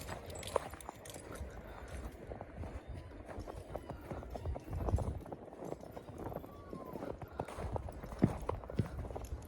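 Steady clip-clop of Novooleksandrivka draught horse hooves on hard ground, moderately near, with a continuous busy outdoor background.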